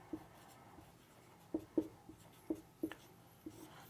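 A chemical name being written by hand during a chemistry lesson, sparse scratchy pen strokes in short separate bursts over a quiet room background, close and soft with no voice.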